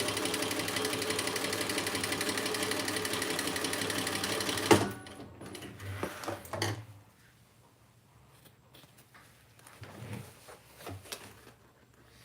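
A sewing machine sews a crossbody bag in a steady, close whir for about five seconds, then stops abruptly, followed by quieter handling clatter and faint voices.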